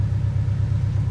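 A 2019 Porsche 718 with 306 horsepower idling steadily, giving a deep, even low rumble with a slight pulsing throb, close and continuous with no talk.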